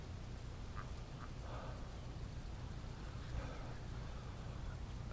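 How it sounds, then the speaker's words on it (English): A bunch of ducks hidden beneath a wood pile quack faintly and intermittently in the distance over steady outdoor noise. "Oh, a bunch of ducks underneath the wood pile over there too."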